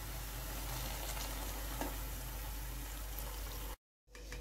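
Grated carrots sauté in ghee for carrot halwa, giving a steady, even sizzle with a few soft stirring scrapes. The sound cuts out briefly near the end and then returns.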